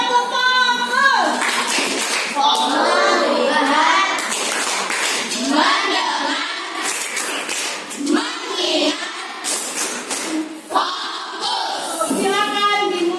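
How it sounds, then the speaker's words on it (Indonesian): A classroom of Indonesian schoolchildren claps hands together in repeated rhythmic bursts, filling the room, with children's voices and a teacher talking over and between the clapping. "Tepuk tangan."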